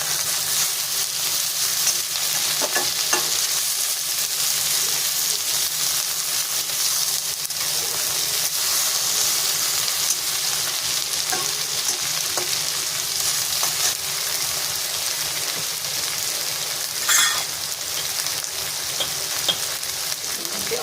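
Onion and okra fry together in a pan with a continuous, even sizzle and crackle, punctuated by occasional light clicks of stirring, steady and close throughout with no talking.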